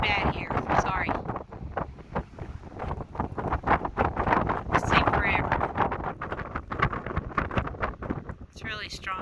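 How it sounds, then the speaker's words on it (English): Strong wind buffets the microphone at El Morro National Monument, a loud, continuous gusty roar that surges and drops throughout, with a few brief bursts of speech poking through. "Wind is really bad here."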